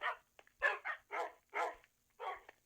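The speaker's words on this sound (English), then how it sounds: "Poor dogs, poor dogs. I hear them at the bottom." Dogs bark in a Minecraft Pocket Edition custom map: about six short, separate barks in an uneven rhythm, fairly faint and with no talk over them.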